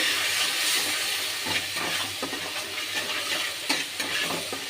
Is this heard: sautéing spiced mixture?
yes